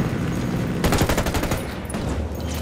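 Rapid automatic gunfire in the video game Ghost Recon Wildlands during a co-op firefight, a loud, dense burst of shots lasting under a second, set against steady background game noise.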